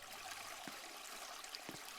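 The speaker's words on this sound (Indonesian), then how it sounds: "Ternyata di sini tuh ada air terjun buat nge-save" Steady water rush from a waterfall built inside a house in a home-building tycoon video game, a faint, continuous trickling stream alone with no talk.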